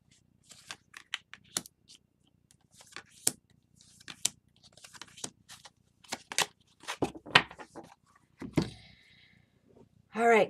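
Tarot cards being shuffled and drawn, heard as a string of crisp separate snaps and flicks that grow denser toward the end and finish in a brief louder riffle, all close and with no talk.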